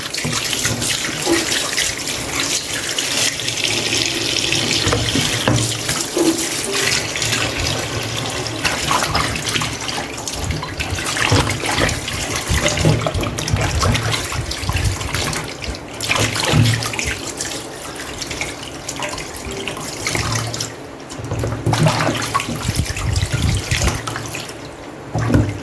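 A kitchen tap runs steadily into a sink while oxtails are washed, a continuous close splashing stream with small shifts as the meat is moved under the water, no talk.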